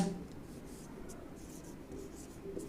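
A teacher writes notes for a biology class, making a faint, steady scratching and rubbing of pen or chalk with soft strokes in a quiet room.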